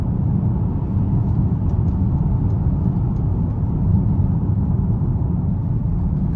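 Low, steady engine rumble from a 2017 Mercedes-Benz GLE 350 4MATIC accelerating in manual mode, heard from inside the cabin as a constant droning hum with road noise and little change in pitch.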